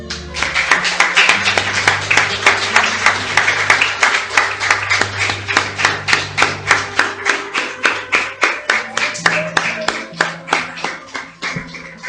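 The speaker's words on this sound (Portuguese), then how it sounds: "Vamos aplaudir ao Senhor." Worshippers in a Portuguese-language church service clap loudly in a steady rhythmic beat, each sharp clap evenly spaced over a sustained low musical tone, the pattern slowing slightly and thinning toward the end.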